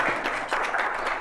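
A brief burst of audience applause at a Show-Me Institute talk on economic liberty and occupational licensing, steady and fairly loud for about a second.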